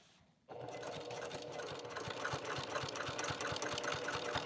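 A sewing machine with a walking foot stitching through a quilt starts up after a brief quiet moment, then runs at a steady moderate speed with an even mechanical chatter and no talk.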